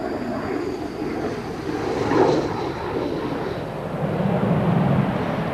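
A Tornado GR-1A jet flies past at an RAF air show, a distant broad engine roar swelling slightly and fading with no speech over it.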